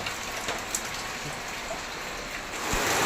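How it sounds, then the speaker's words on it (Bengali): Heavy rain pours down in a dense, steady wash that swells slightly near the end, with scattered drops striking surfaces nearby and no voices. "ঝিরিঝিরি বৃষ্টি পড়ছিল, আর এখন একদম এত জোরে নেমেছে"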